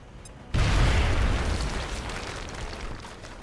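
A grenade explodes in XCOM: Enemy Unknown, a sudden loud boom after half a second of near quiet, followed by a long rumbling decay that slowly fades.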